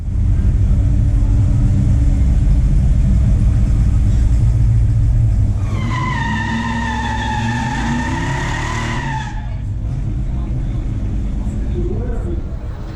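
A 1967 Pontiac GTO and a 1972 Chevelle SS 454 drag race in a pure stock event, loud roaring engines and tire noise up close, then a rising whine as one car accelerates away into the distance.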